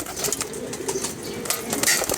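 Pigeons of a racing line in a loft coo and shuffle with bursts of wing flapping, a steady close clatter of birds with no voices.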